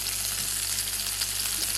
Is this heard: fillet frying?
yes